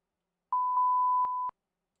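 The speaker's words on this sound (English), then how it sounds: "that's definitely a beep" A classic synthesizer patch plays one clean, steady electronic beep lasting about a second, isolated against silence.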